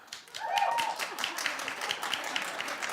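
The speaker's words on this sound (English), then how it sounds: "clap if you'd like her to do it" A studio audience claps through a lively gathering of mixed broadband taps, steady and moderately loud, with a brief whoop or whistling voice near the start and faint talk underneath.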